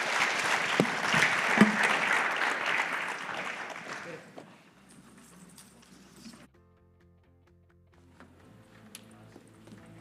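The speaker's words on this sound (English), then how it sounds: "let's give an applause for the panelists here" Audience applause at a WE3 2024 panel session rings out for the panelists for about four seconds, then fades to a quiet room with a low hum and scattered faint sounds.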